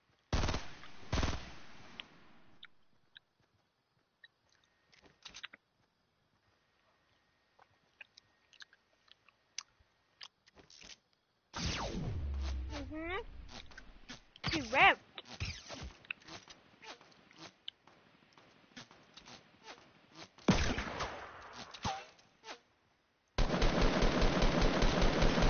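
Bursts of machine-gun fire in a shooter game, with sharp clustered shots spread irregularly across a long stretch, some sparse single cracks and a loud sustained rattling burst near the end.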